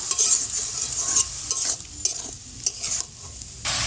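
A utensil scrapes and clicks through spiced chicken mince frying in a pan, with a busy sizzle behind it. The stirring strokes come in quick irregular bursts over a few seconds, and no one talks.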